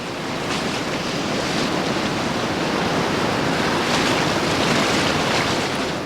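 Crashing water of Amazon river rapids where fish fight upstream, a dense, loud, continuous roar of churning white water with no pauses.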